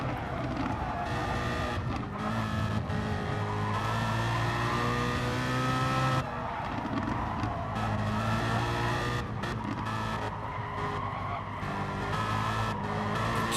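Sim racing GT cars in a video game drone through a corner with steady engine notes while the front tyres squeal and skid in sustained, loud bursts, several cars layered close together.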